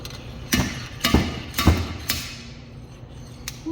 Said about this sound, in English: Use the slide hammer and it pulls the bearing right out.